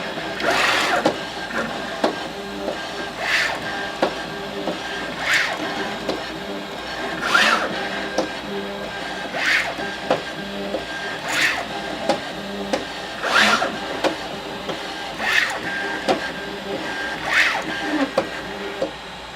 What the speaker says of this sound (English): when the printer is vibrating back and forth